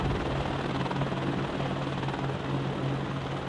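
Helicopters in the Cold War strategy game Warno, giving a steady droning rotor roar with a low pulsing thump, loud and continuous throughout, with no voices.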